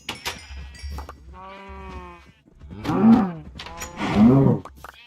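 Minecraft cows mooing in a video game, several drawn-out low moos in close succession, the last two loudest and nearest, with no talk over them.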